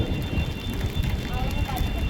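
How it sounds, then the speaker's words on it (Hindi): Heavy monsoon-style rain with big, fat raindrops pouring down outdoors, a dense, steady roar of drops striking surfaces close by, loud and continuous with no pauses. "अब मोटी मोटी बूंदें स्टार्ट हो गई हैं।"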